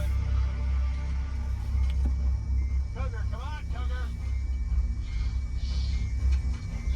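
A Tesla car drives along, a steady low road and motor rumble heard from inside, with brief faint tonal sounds partway through.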